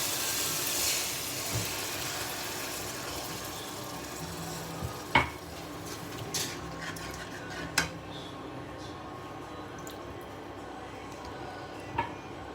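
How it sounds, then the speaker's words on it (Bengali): Water poured into fried spice masala sizzles in the pan with a faint, steady hiss, while a spoon stirs and knocks against the pot in a few sharp clinks. "এবার আমি জল দিয়ে দিই।"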